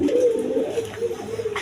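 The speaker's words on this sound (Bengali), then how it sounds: "দর্শকবৃন্দ, এখানে এক জোড়া ইন্ডিয়ান বোম্বাই কবুতর আছে" A pair of red Indian Bombay pigeons coo in a steady, close, continuous murmur with no talk over it.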